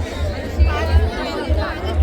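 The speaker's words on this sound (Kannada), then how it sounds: "ಕ್ರೌಡ್ ಅಂತೂ ಸಿಕ್ಕಾಪಟ್ಟೆ ಇದೆ" A large crowd chatters at an outdoor food fair in Mysuru, producing a dense, continuous babble of many voices close by. Low thumps and rumbles rise and fall underneath, with no single voice standing out.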